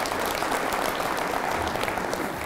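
A public audience at a State of the City presentation applauds the police and fire chiefs, dense steady clapping filling the room for the whole stretch.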